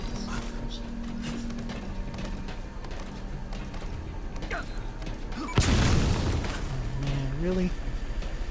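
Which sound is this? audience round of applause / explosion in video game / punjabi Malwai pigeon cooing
explosion in video game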